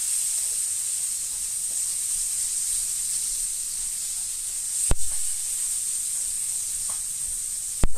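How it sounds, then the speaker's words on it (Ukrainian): Constant hissing sizzle of thin smelt fish frying in hot oil over a good flame, steady and close, broken by a couple of sharp clacks from a utensil against the pan. "Так, ось одна сторона підсмажилась, перевертаємо і смажемо другу сторону"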